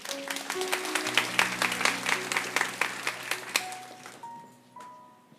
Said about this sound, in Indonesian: saya mau mendengarkan tepuk tangan untuk Tuhan.